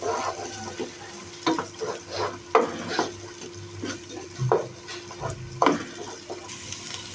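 Egg fried rice with mixed vegetables gets stirred and tossed in a pan: a quiet background sizzle broken by a series of distinct scraping and clattering spatula strokes at an uneven rhythm, close and alone.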